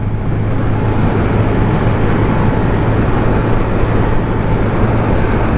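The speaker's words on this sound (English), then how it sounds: "it's 70 now, fourth gear, pinning the throttle absolutely now" A Honda Monkey motorcycle fitted with an aftermarket exhaust and intake, held at full throttle in fourth gear, gives a steady, loud engine drone mixed with wind rush, unbroken and level throughout with no voices.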